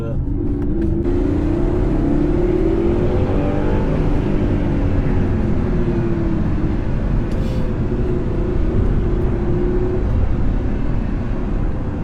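An Audi R8 in sport mode drives hard along a mountain road, its engine a loud, continuous droning roar with rising and falling revs, steady throughout.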